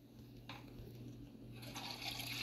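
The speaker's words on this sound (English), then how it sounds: "I didn't mean to flush it." A toilet is flushed, a faint rush of water that starts softly and builds steadily louder toward the end, heard alone without voices.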